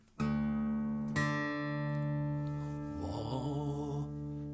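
MFG Datlen OM cutaway acoustic guitar notes ring out and sustain, a second strum joining the first, the tone blooming and swelling rather than fading right away.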